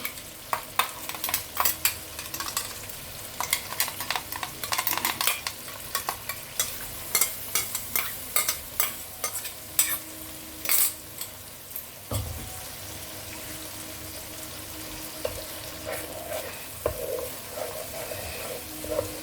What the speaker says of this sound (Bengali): মশলাটা একদমই ভাজা হয়ে গেছে।